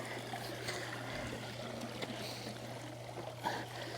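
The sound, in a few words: water draining from Beatbot robotic pool cleaner at pool edge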